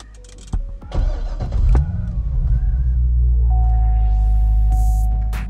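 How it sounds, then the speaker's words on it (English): A 2005 C6 Corvette fired up with its push-button start: a brief electronic chime and starter whir, then the V8 catches with a loud surge and settles into a deep, steady, rumbling idle up close. "So let's start this thing up."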